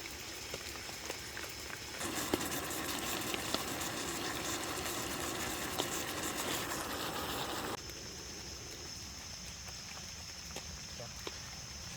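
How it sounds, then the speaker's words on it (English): Sliced beef steak frying in oil at a rainy campsite, a steady close sizzle that swells louder for several seconds and then drops back to a softer crackle. "that we got her cooking in oil"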